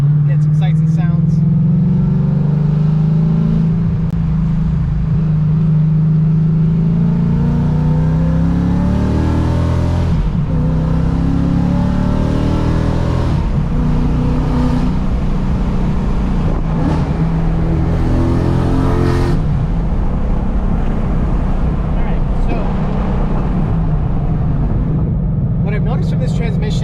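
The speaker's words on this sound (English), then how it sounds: "Let me get on the on-ramp, get some sights and sounds." A car with a Stage 3 MT-82 manual transmission accelerates hard onto a highway on-ramp, engine droning loud and close as its pitch climbs through the gears, with a voice talking over it.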